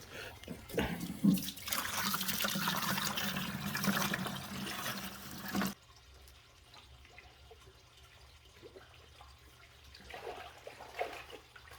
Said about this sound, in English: Now we got to get a lot more water in there.